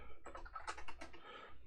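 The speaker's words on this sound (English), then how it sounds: "Typing something." Quick, soft clicks of keys on a computer keyboard come in an irregular burst of several presses, close and quiet, with no talking.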